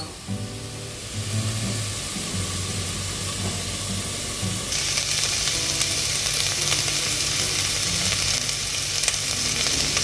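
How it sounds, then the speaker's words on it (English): Onions frying until brown in a loud, steady sizzle with a bright hiss that intensifies midway, the crackle continuous and close with no voices. "We have to wait until the onion becomes brown."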